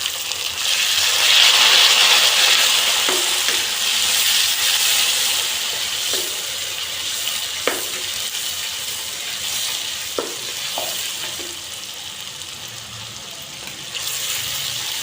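Chopped tomato and green chili fry in a pan, a loud steady sizzle running throughout with occasional soft clicks and taps of stirring, close up and with no voices.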